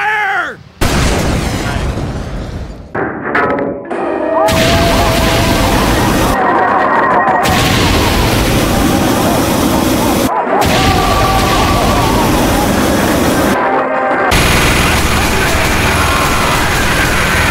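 Dense, loud gunfire and explosions in the video game Team Fortress 2, a near-continuous barrage of booms and shots broken by a few brief drops, with voices heard early on.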